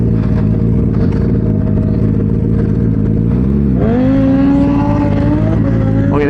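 Turbocharged Suzuki Hayabusa motorcycle idles with a loud, rough drone, then launches with a sharp rising rev that climbs rapidly in pitch, heard up close and dominating the scene.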